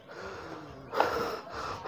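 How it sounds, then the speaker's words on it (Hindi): Heavy, breathy panting from someone who has just climbed to a hilltop temple at Omkareshwar on Mandhata island, Khandwa. The gasping exhalations swell noticeably around the middle and again near the end, with no speech. "हाँफते"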